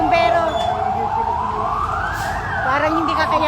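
A fire engine siren wails at a campus fire, rising and falling in a long sweep, loud and close over rumbling traffic.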